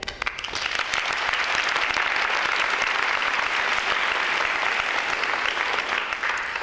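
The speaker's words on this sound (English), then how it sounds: "So we applaud Marina today." Sustained, dense applause from an audience at a Women in the Arts 2015 honoring ceremony, loud and steady throughout with no voices on top.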